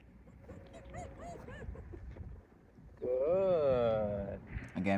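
A puppy gives brief whimpers and high yips during a first training session on the place command, while a voice talks over it and offers praise.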